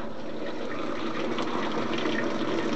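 Hot water gushes steadily through the inlet valve into a Whirlpool LA9100XT washing machine, a loud continuous hiss and rush of filling with no break or speech.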